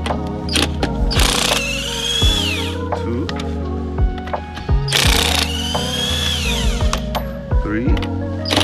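An impact power tool takes 19 mm lug nuts off a Jeep Commander wheel during a roadside tire change, with two loud whirring, ratcheting bursts between quieter clicks and handling noises, a voice talking in between.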